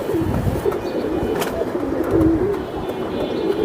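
Pigeons at a bird market, including Silver Giribaj, Pankhi and Hammer breeds, coo softly and continuously amid steady crowd and market bustle, with no clear talk over them.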